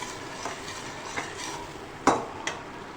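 Tomatoes roasting with red chilli, turmeric and paprika powder over a high flame for a macaroni pizza sauce: a quiet sizzle with a few sharp scraping stirs of a spoon in the pan, one louder knock near the end.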